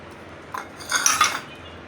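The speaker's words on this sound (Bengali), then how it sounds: "এই যে এটা হলো দই, ভালো করে মিক্স করতে হবে" A spoon clinks and scrapes against a bowl while yogurt is stirred, a brief cluster of light metallic taps lasting under a second, close and fairly quiet with no talking.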